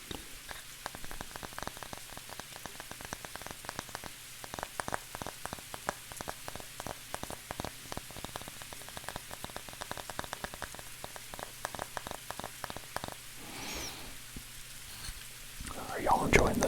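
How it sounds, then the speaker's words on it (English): Rain patters steadily on a surface in dense, irregular drops, a continuous soft wash, with a faint voice near the end. "Are y'all enjoying the rain sounds that are here?"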